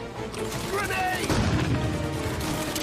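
A grenade goes off in Mafia Definitive Edition, a muffled boom in the middle of game noise and voices, with a low rumble that fades after it.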